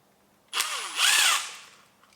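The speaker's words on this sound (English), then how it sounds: "Then there's 4 screws in the bottom, so just undo those." A cordless power drill or driver whirs twice in quick succession, loud and close, backing screws out of the bottom of a Wells PDW GelBlaster being taken apart.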